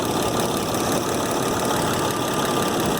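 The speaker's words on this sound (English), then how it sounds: "Okay, raise the idle a little." Cummins 5.9 diesel in a 2007 Ford F750 with an injector misfire, idling with the idle raised; a steady, loud, close engine drone with a rough knocking undertone runs continuously without a break.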